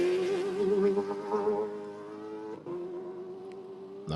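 An off-road race car driven by Mitch Guthrie at the Abu Dhabi Desert Challenge prologue passes with a high, whining engine note that wavers, then drops and fades into the distance, with a sharp burst at the very end.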